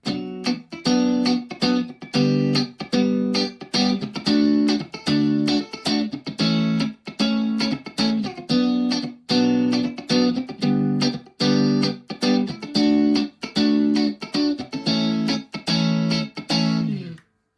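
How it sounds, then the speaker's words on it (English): Electric guitar through an overdriven tube amp at maximum volume with a crunchy tone, strummed chords played in a steady, choppy rhythm, loud and close. "if we max the volume, really nice crunch"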